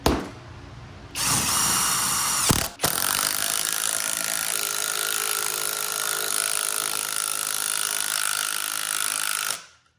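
A SKIL PWRCore 20 impact driver drives a 3/4 inch bit into wood with a loud, continuous rapid hammering whir, starting after a brief burst and a short pause and running steadily for about eight seconds at close range.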